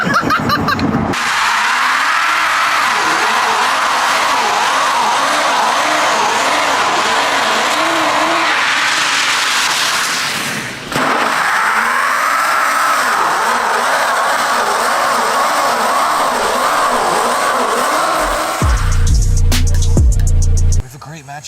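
Tesla-swapped Nissan 350Z accelerating hard, a loud sustained electric whine with rising tones that dips briefly then surges again, filling the cabin alongside road and tire roar, with voices talking over it.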